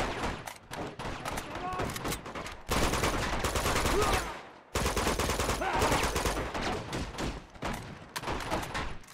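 Enemy gunfire in the action game Uncharted 2: Among Thieves, loud bursts of automatic shooting with sharp repeated cracks, broken by brief pauses, with sustained stretches of heavy fire.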